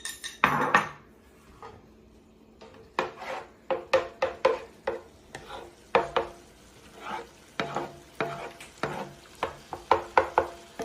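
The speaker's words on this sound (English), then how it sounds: "Now we're going to scramble the eggs." Eggs are scrambled in a pan for chicken fried rice, with repeated scraping and tapping of a utensil against the pan over a faint sizzle, close and alone without speech.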